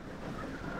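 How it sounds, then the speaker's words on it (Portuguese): Wind blows during a nighttime storm in the Minecraft video game, a brief, faint, steady rushing hiss with no talking. "Olha o barulho de vento"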